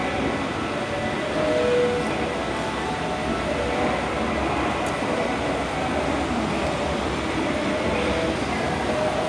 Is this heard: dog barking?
no